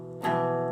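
Acoustic guitar chord strummed with a finger leaning on a string, muffling part of it, giving a brief dull, buzzy ring that sustains for under half a second on its own.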